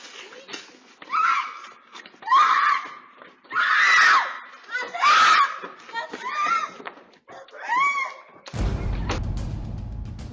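A woman screams desperately again and again in loud, ragged bursts as she is dragged into a vehicle during a kidnapping, followed by a burst of rough noise at the end.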